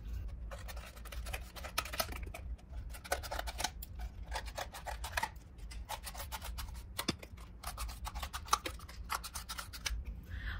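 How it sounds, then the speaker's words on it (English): Scissors snipping paper circles for a rainbow necklace craft, a steady run of quick crisp cuts in irregular bursts, close and fairly quiet with no talking. "Now I'm gonna be using my scissors."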